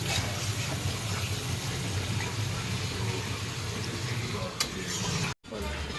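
Curry gravy made with curd and cashew paste boiling hard in a pan for chhana kofta, a loud, continuous sizzling bubble up close that cuts out abruptly for an instant near the end.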